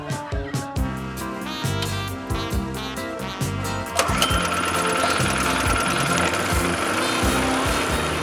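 A petrol mixer with a 4.5 horsepower Honda engine and a 22-inch mixing bowl chugs in a steady mechanical rhythm, then grows louder and denser as it keeps running close by.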